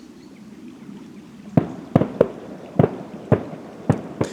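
Distant bonfire night fireworks go off in a string of about eight sharp bangs at irregular intervals over a quiet outdoor background beside floodwater.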